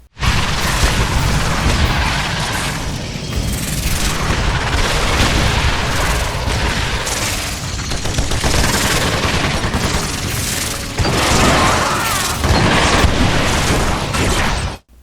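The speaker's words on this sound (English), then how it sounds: "It comes with heavy duty guns, mostly explosive based." Heavy explosive guns fire in the Earth Defense Force: Insect Armageddon video game on PC, a dense, continuous barrage of loud booms and blasts running for about fifteen seconds without pause.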